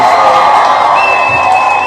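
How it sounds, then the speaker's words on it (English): A studio audience applauds and cheers in a loud, steady wash of clapping and whoops that fills the whole moment without a break. "I want to give all of you in the audience a huge round of applause."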